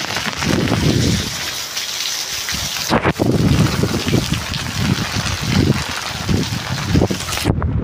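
Heavy rain falling in Nanded city, a dense continuous roar with gusty swells and rumbles throughout, briefly dipping midway and cutting off at the end.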